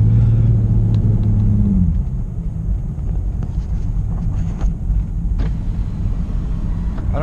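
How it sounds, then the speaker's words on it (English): A car exhaust with headers drones in a low, steady rumble, loud and continuous, with a brief rising tone at the start and no talking over it. "I don't know if you guys can hear my exhaust now, my headers"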